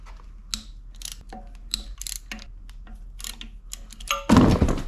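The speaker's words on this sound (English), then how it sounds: "There are 3 10mm bolts that hold on to this. Let's take them off" Ratchet wrench clicking in short bursts while loosening 10mm bolts on a Suzuki DOHC F6A turbo engine, close and fairly quiet, ending in a louder burst of rattling.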